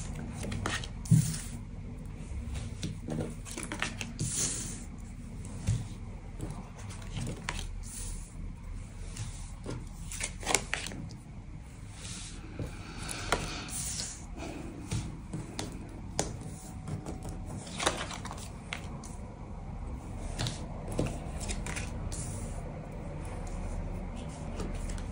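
Tarot cards are laid out on a table for a reading, giving a run of soft sliding, rubbing and tapping card sounds in close, irregular bursts, with no talking.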